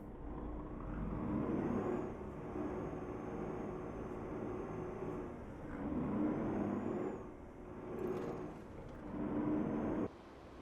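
A new MAN truck in Euro Truck Simulator 2 drives with a steady engine drone that swells and eases, and a brief hiss near the end.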